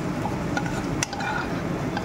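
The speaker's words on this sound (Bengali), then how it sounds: "লবণ দিয়ে দিলাম, এবার ভালো করে নাড়িয়ে নেব।" Pasta is stirred in a pan with salt and a little turmeric, giving soft scraping and shuffling with faint utensil clinks against the pan, one brief sharper clink partway through, over a steady background hiss.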